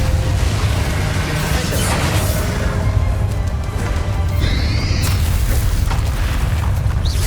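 Spell blasts boom and burst in loud, dense game combat in Hogwarts Legacy, with rumbling impacts and crackling effects layered over a constant roar of battle noise.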